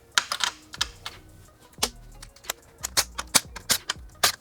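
A 10mm socket wrench loosening nuts on the rear fender of a 2021+ Yamaha MT-09 motorcycle gives sharp, close metallic clicks in short irregular bursts with brief pauses between them.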